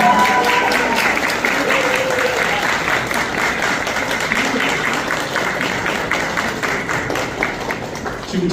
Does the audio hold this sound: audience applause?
yes